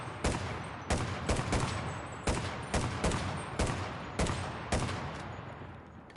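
Rapid bursts of gunfire from the video game Enlisted, played on PS5, crack out in a steady run of close, loud volleys with brief gaps between them and no talking.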